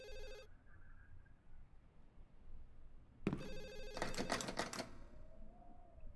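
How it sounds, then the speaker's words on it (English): A telephone in the Ju-On: The Grudge Wii horror game rings in a short burst, then after a pause rings again, loud and insistent for about two seconds, with no talking. "Somebody answer the fucking phone."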